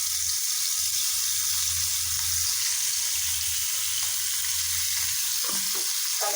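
Small puti fish coated in turmeric and chili fry in oil, making a constant, loud sizzle with faint low rumbling and a few soft handling sounds near the end.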